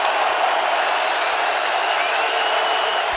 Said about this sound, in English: This crowd is ripping.